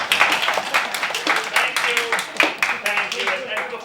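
An audience at a stage performance of Cyrano by the Los Altos Stage Company claps in a brief, patchy burst, mixed with voices and laughter.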